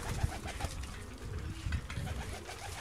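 Several high flying pigeons from a pir's household coo in soft repeated low calls, close by, with no talk over them.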